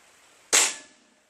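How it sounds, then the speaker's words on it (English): A single sharp crack of a Gamo Whisper Cat air rifle firing at the hinge of a lid, loud and close, with a short decaying tail after it in otherwise quiet surroundings. "I'm just going to shoot the hinge part of it and break it off."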